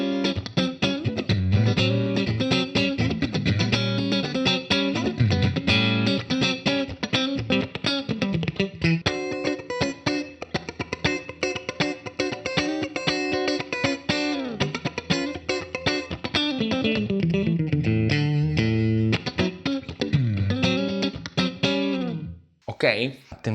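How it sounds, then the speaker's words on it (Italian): Electric guitar played through a Quad Cortex with a compressor for a funk tone, producing bright, clipped, percussive chords and single notes with squeezed attacks and light reverb, sustained and up front before cutting off near the end. "sentite che si sente molto il compressore come va a fare questo suono cic cic"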